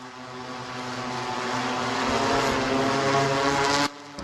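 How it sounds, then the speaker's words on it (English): A window cleaning drone flies close by with a steady propeller whine that builds slightly in loudness, then drops off abruptly near the end. "When people see that drone flying"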